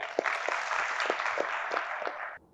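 Audience applause at a Gujarati poetry recital in Godhra, a steady broadband wash of many hands clapping together that holds evenly for over two seconds, then cuts off abruptly.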